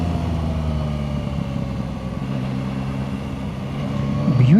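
Yamaha Tracer 9 GT+ touring motorcycle engine running steadily with a low mid-pitched drone, rising slightly as the rider works through gear changes; loud and close, no talk.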